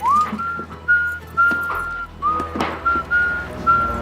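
A man whistles a tune, clear and close, in short phrases with small pauses between them, over faint background noise.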